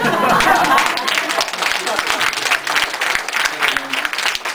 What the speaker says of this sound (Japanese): 拍手。